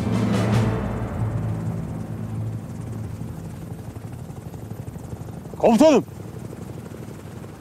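Helicopter rotor and engine drone steadily in the background, loudest at the start and fading slightly, while someone speaks briefly over it.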